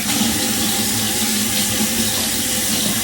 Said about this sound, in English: I leave the water open so that way it's warm at a time that I need it.